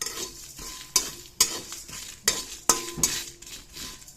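Pickle (achar) stirred and fried in a pan over low gas, a soft steady sizzle broken by several sharp scrapes and clinks of a spoon against the pan.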